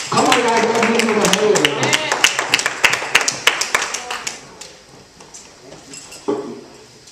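A church congregation claps during a worship service. Dense, lively clapping at the start thins into spaced, rhythmic claps that fade toward the end, with voices talking and calling out underneath.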